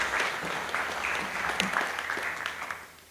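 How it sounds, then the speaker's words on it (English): An audience at a GIS innovation workshop applauds the chief guests, steady moderate clapping from a seated crowd lasting a few seconds. "A round of applause for our chief guests."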